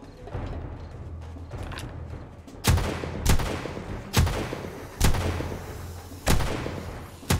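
Gunfire from a gun in the zombie survival game 7 Days to Die: five sharp, loud shots spaced roughly a second apart, each with a short rumbling tail, over a low, busy background.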